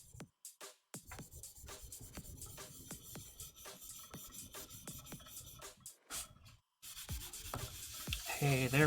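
A knife is drawn repeatedly across a 2500 grit sharpening stone, giving a steady series of soft scraping strokes broken by brief pauses, close up and with no talking.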